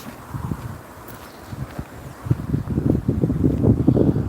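Outdoor wind on a mild spring day, blustering against the microphone as low rumbling gusts that grow stronger and more buffeting toward the end, with no talking.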